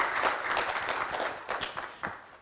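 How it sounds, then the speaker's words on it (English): An audience claps steadily at a college graduation ceremony, a crowd's applause that thins out near the end. "Round of applause."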